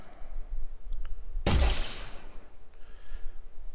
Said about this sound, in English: Still fractures with one gunshot.